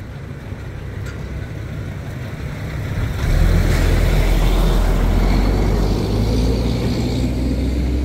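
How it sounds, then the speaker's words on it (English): Heavy construction trucks rumble past on a residential street, a steady low engine drone that grows louder and stays strong, with road noise throughout. "We've got some trucks coming by, construction trucks."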